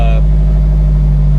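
Subaru BRZ/FRS/GT86 fitted with a Tsudo header idling very loudly up close, a deep, steady engine drone with a strong low hum throughout.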